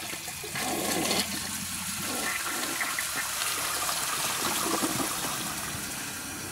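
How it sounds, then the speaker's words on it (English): A 2003 Gerber Maxwell toilet flushes with a loud, steady rushing gush of water that carries on evenly for several seconds, close up and with no talking. "Overall, it's got a pretty good flush."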